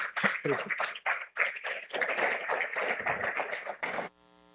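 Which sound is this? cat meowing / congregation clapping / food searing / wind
congregation clapping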